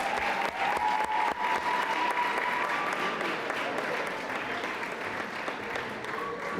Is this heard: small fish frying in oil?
no